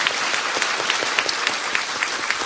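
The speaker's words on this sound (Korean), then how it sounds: "박수 한번 보내주세요." An audience at a talk gives brief applause, an even wash of clapping in which individual claps stand out at a steady rhythm.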